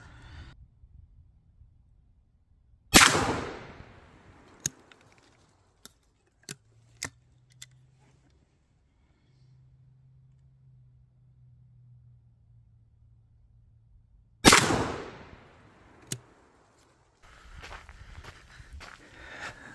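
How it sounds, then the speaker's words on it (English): Two loud, sharp blasts from a 20 gauge H&R Pardner single-shot shotgun firing slugs at a target 20 yards away, spaced roughly eleven seconds apart, with quiet handling clicks and faint rumble between them. "I'm going to send a slug or 2 down there just to see where it is in relation to point of aim"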